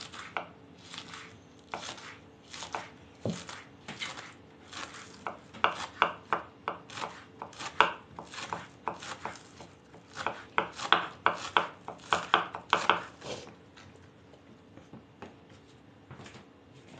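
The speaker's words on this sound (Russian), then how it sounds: "картошку вообще самое тяжело резать" A kitchen knife chops potatoes for okroshka on a board, a run of sharp, uneven cuts that quicken into a dense flurry before tapering off, close and clear with no talk.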